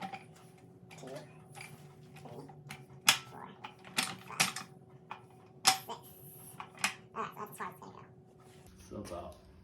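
Maasdam 3 ton low profile floor jack pumped by hand, a string of close mechanical clicks and ratcheting creaks in an irregular rhythm, with a steady hum beneath.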